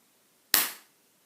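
A single sharp hand clap, close and loud, with a quick bright attack and a short decaying tail, in an otherwise quiet room.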